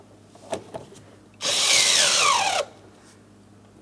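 A power drill with a socket and extension drives an anchor bolt during a Pontiac Grand Prix mirror switch repair, a single loud whine lasting about a second that rises in pitch, between a few faint knocks.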